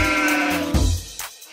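A single sheep bleats loudly and close, a wavering nasal cry lasting about a second.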